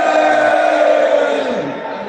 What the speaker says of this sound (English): So I'll say on 3, we have a cheer.